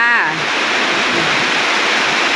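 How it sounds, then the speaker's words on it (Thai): Steady, heavy rain pours in front of a house, a dense continuous hiss that fills the whole clip, with a brief voice at the very start. "ได้ยินเสียงฝนบ่"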